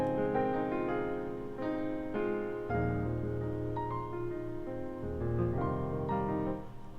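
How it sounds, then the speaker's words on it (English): Acoustic piano on its own plays a slow chord progression for a pain-style loop in FL Studio, with ringing held chords and deep bass notes, steady and clean throughout. "But just piano alone sounds like this."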